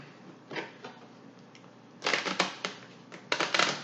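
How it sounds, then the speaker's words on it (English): Large marble-patterned cards being shuffled, heard as a quiet riffle early on and then denser bursts of papery riffling and flicking close by, with no voices. "So I'm gonna shuffle these big old marble cards"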